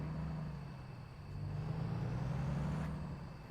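A heavy truck in American Truck Simulator slows under braking, with a close, steady low engine rumble and a faint hiss that rises and holds, and nobody speaks.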